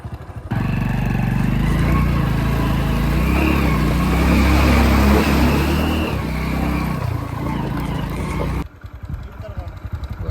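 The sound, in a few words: vehicle engine driving out through water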